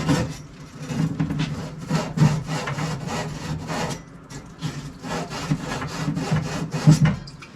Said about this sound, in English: So this is an abrasive, basically sandpaper.